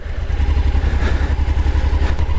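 A motorcycle churning through slippery, sticky mud on a rural track: a loud, close engine labouring with a steady low pulsing throb and rough clattering texture throughout, with no voices.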